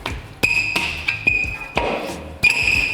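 A car's brake rotor is worked off the hub after caliper removal, producing a series of sharp metallic rings and knocks, about five close hits with lingering ringing between them.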